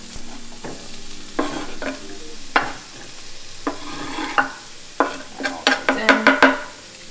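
Bay leaves crackle in hot oil in a pan, a continuous sizzle punctuated by scraping stirs and tossing clatters that grow busier toward the end, close-up and without voices.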